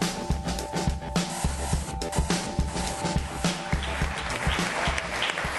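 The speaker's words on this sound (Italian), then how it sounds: "L'applauso poderoso." Loud, sustained applause from a studio audience on an Italian live broadcast, dense clapping filling the whole stretch over a steady musical hum.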